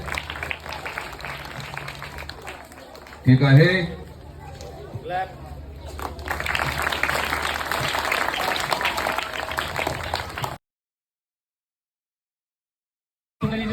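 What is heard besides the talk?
audience applauding during a school prize presentation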